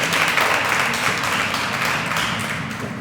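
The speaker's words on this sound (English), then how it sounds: "Clap it up for Ayanna, everybody." Audience applause at a Youth and College Affairs inauguration, a dense steady wash of clapping from a crowd, fairly loud and continuous for a few seconds without talk.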